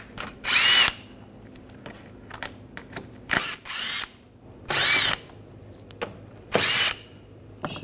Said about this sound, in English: Use an 8 millimeter socket, take these bolts out.